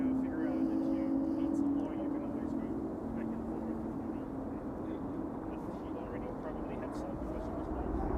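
A Corendon Airbus A350-900 airliner at Amsterdam Schiphol Airport, a steady loud jet engine roar with a droning tone that slowly shifts, heard from outside near the runway while people talk quietly over it.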